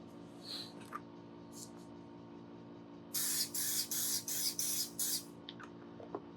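An aerosol can of glue accelerator sprays onto a steel-string guitar neck in a workshop, six short rhythmic hissing bursts close by after a few faint handling sounds.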